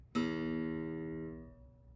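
One plucked acoustic guitar note or chord rings out and decays over about a second and a half, quiet and close, nothing else heard.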